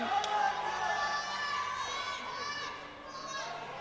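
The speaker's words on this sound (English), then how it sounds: "And you can hear the crowd behind us." A crowd at the SBD British Open powerlifting meet in Britain cheers and shouts in a sustained, dense roar that swells and fades slightly.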